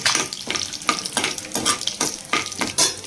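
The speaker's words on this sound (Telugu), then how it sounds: "తిరగమాట వేస్తున్నానండి ఇంకా ఆవాలు వేసాను జీలకర్ర వేసాను ఎండుమిర్చి వేసానండి" Mustard seeds, cumin and dried red chillies crackle and sizzle in hot oil as a tempering for a brinjal and egg curry, with a steady hiss broken by regular, rhythmic stirring strokes about every half second.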